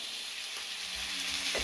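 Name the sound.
sous vide lamb rump sizzling in a pan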